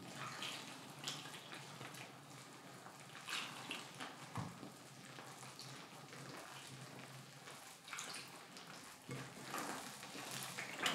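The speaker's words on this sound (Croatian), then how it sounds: "I zakuhamo toplom vodom." Warm water splashes and trickles close by as it is poured into dark flour mixed with some white flour and salt for dough. The pour is fairly quiet and continuous, with no talk.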